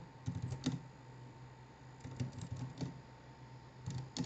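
Terminal commands being typed on a computer keyboard, heard as quiet, close key taps in three short bursts separated by brief pauses, over a faint steady hum.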